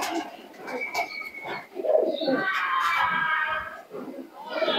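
A male Teddy pigeon, a racing pigeon, coos in soft rolling phrases close by, with other bird calls mixed in and a faint voice in the background.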